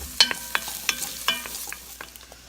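Onions and garlic sizzling in a pan, with several sharp close clinks and scrapes of a utensil stirring them over a soft background sizzle.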